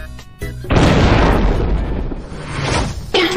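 A bombing explosion in an Among Us gold-coin game mode bursts out as a loud, sustained roaring blast that rumbles on for a few seconds before cutting off.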